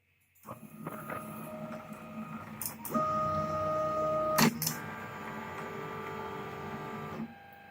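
A Tronxy P802MA 3D printer homes its axes, its stepper motors whining at shifting steady pitches with clicks as each axis stops, close up and alone before going quiet.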